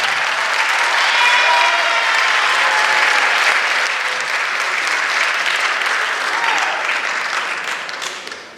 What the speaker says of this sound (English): Can we have a round of applause for Evan?